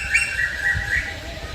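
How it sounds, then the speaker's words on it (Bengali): Birds calling around a rural village on a windy, overcast afternoon, bright repeated chirps over a low rumble of wind, no talk. "চারদিকে পাখি ডাকছে।"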